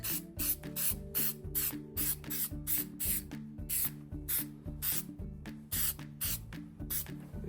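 Plasti Dip sprays from an aerosol can onto Nissan Xterra Pro 4X emblems in short, sharp hissing bursts, about a dozen in quick succession, close and loud over a low musical bed.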